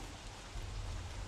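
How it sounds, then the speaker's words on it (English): Rain falls steadily and evenly in the video game Don't Starve Reign of Giants, a dense, constant hiss with no breaks. "Freaking rain."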